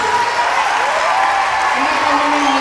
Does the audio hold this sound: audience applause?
yes